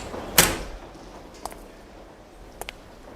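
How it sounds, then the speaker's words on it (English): An interrogation room door opens with a sharp, close clunk near the start, followed by a few faint, light clicks and taps in a quiet room. "Paul opened the interrogation room's door."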